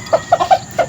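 A 10-month-old Kelso gamecock rooster gives four short, close clucks in a quick uneven series, loud and clear with no talking over them.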